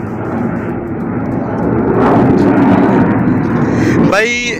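A fixed-wing airplane passes overhead, a broad rumbling roar that swells and stays loud throughout while someone talks outdoors.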